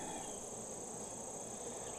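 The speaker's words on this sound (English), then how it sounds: "there are bees everywhere here" Honey bees swarming around a hive opened for a winter inspection after a little smoke; a steady, thin buzzing drone runs unbroken throughout, fairly faint and alone.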